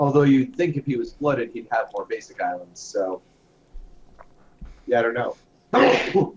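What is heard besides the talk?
sneeze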